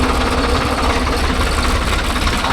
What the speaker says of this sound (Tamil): வண்டி பாருங்கள் ஓடுறதே தெரில, சும்மா ஓடிட்டு இருக்குது இன்ஜின்.